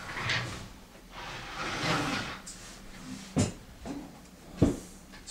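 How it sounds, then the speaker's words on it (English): A sofabed drawer on a Richmond sofabed is pushed back into place, with soft sliding rubs followed by two sharp wooden knocks as it seats, close and fairly quiet with no voices. "realign the drawer"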